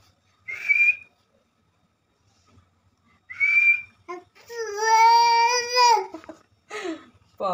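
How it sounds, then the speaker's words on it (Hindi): Two short, thin whistles sound about three seconds apart, followed by a longer wavering, crying-like vocal sound and a brief sliding tone, all fairly close in an otherwise quiet indoor space. "आप फू नहीं ऐसे सीटी बजाओ"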